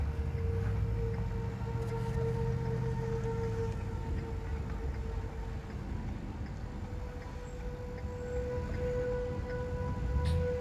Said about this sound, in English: you can hear the sirens blaring here in Winnebago County, Illinois, where Paige and Bryce are